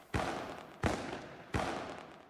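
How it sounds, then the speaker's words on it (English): Fireworks in the video game Paper Mario TTYD go off as three sharp bursts spaced about 0.7 seconds apart. Each bang tails off in a crackling fizz, quiet in the mix with no talk. "Fireworks."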